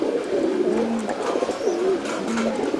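A Damascene pigeon, a foreign breed, coos in repeated low, rolling phrases, fairly close and clear over a soft background hiss, with no voices.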